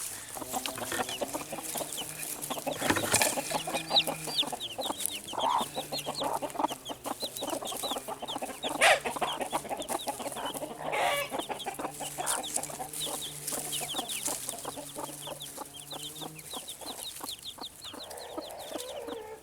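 A protective mother hen clucks steadily beside a clutch of just-hatched chicks, whose busy high peeping runs throughout at close range, with occasional louder squawks and rustling.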